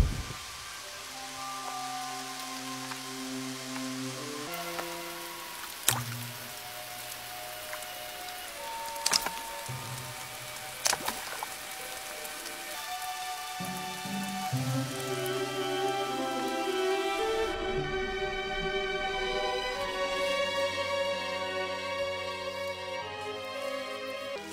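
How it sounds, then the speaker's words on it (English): Rain patters on the branches of a resurrection plant, a steady soft hiss with a few sharper drop hits, heard under a swelling orchestral score without speech. "Rain must fall on its branches before they dry out and close up again."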